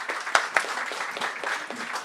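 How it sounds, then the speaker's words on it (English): A round of applause from a modest crowd at a YMCA celebration event in Cork, scattered claps forming a lively patter with a few louder individual claps near the start. "Big round of applause."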